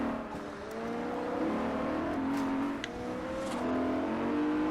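A BMW Z4 in the racing game Forza Horizon, its engine revving hard as the wheels spin, a steady rising and falling whine close up without any talk.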